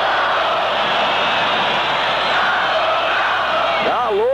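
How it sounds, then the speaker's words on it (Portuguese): Atlético-MG supporters chanting in a packed stadium during a 1987 Brazilian Championship semifinal against Flamengo, a loud sustained crowd roar of massed voices, with a commentator's voice rising at the close. "a torcida do Atlético grita"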